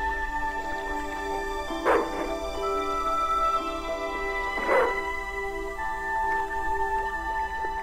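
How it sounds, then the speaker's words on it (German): Dog in the adventure game Broken Sword II barking twice, short sharp yelps spaced a few seconds apart over a continuous game music and ambient bed. "Ja, du blöder Köter."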